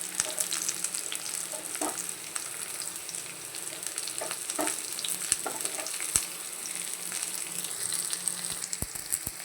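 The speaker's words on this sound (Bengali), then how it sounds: "দেখতেই পাচ্ছ আলু আছে, একটা উচ্ছে আছে, একটা বেগুন, পেঁয়াজ দিয়ে ভাজতে বসিয়ে দিয়েছি" Potato, bitter gourd, brinjal and onion fry together in a pan, giving a continuous close crackling sizzle with occasional soft stirring scrapes and clicks, no voices.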